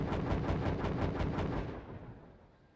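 Artillery bombardment in the video game Steel Division 2 rolls in as a rapid series of heavy booming blasts that merge into a rumbling barrage, then fade away over the last second.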